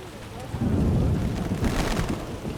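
Steady rain falling in a dark fantasy setting from The Witcher, with low rumbling beneath a dense, continuous wash of patter that swells and stays loud throughout.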